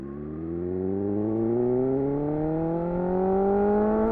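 A 2018 BMW S1000R roadster engine pulls steadily under acceleration, its pitch rising smoothly as the bike gains speed, heard close and clear with no voices.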